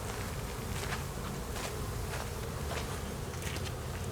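Honeybees buzz in a steady, dense swarm drone close around a winter hive opened for inspection, with no voices over it.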